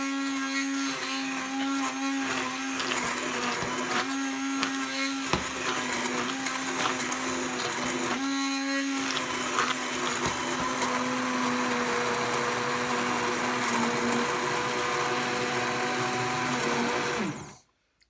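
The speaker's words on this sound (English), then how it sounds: "And I have my blender, my hand blender. And I just put it in and whisk it all." A hand blender whirs steadily with a high motor whine as it purées cauliflower-leaf soup, its pitch dipping briefly a couple of times as it churns, then cuts off abruptly at the end.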